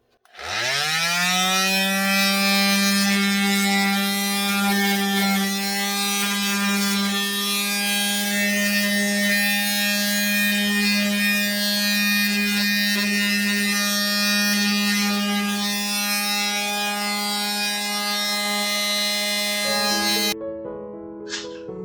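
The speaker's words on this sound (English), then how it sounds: "Remember, when you're using the electric sander, that you don't want to press too hard" Electric sander running steadily on an antique farmhouse desk being distressed, a loud continuous motor whine with strong harmonics holding for about twenty seconds before cutting off abruptly.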